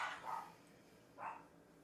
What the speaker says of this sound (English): I don't know know why my dog's barking so much.